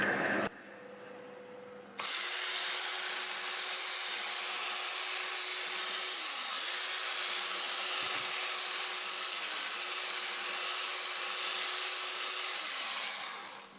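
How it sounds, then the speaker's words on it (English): Fine Scotch Brite is pressed against black walnut spinning on a wood lathe, producing a steady motor whine with a soft rubbing hiss over it, preceded by a brief different tone at the start. "I like to buff it out with the Scotch Brite. This is the fine. So we'll do it with the lathe running, the same as sanding."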